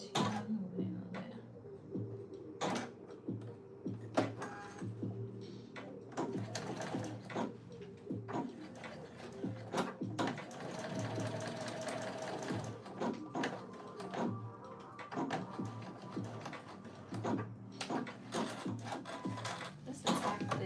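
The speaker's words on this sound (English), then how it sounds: "I'm just going to put a little stitch right on the edge here." A sewing machine stitching along a fabric edge on a dress mock-up runs in stop-start bursts with clicks and knocks between them, close by, while a voice talks at intervals.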